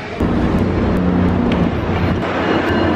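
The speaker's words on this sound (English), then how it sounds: "Made it onto the train in time." A loud, steady rumble of a moving train heard from inside a carriage, with rattling and a few faint clicks over the continuous noise.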